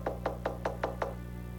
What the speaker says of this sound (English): They knock again.